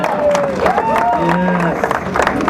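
A convention audience at a closed-door Borderlands 2 demo at PAX 2011 applauding, a steady wash of clapping and crowd noise with a voice speaking over it.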